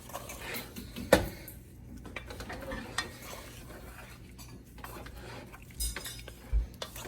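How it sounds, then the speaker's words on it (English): Food being stirred in a pan of butter, garlic and pepper with the heat just turned off: metal utensil scrapes and clinks against the pan over a faint sizzle, with a sharp knock near the start. "I'm going to stir this around in my butter, garlic, pepper"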